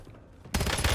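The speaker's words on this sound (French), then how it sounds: "J'essuie des tirs." Video game gunfire erupts halfway through as a sudden dense burst of rapid shots, loud and close, after a quieter stretch.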